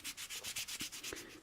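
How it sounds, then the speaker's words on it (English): Hand sanding with 400 grade sandpaper, a quick, even run of about ten close, raspy back-and-forth strokes with no talking. "I could always sand it down a little further just to make it smoother with this 400 grade"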